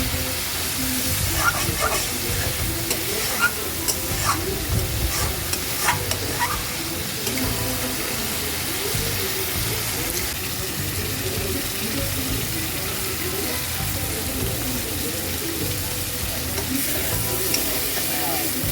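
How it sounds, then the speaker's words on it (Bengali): Eggs frying in a pan with spice masala (Bengali-style cooking), stirred steadily; a continuous broadband sizzle with scraping and stirring clatter runs throughout, close and fairly loud, with no talking. "মশলার সাথে ডিম দুটো খুব সুন্দর করে ভাজা ভাজা হয়ে গেছে"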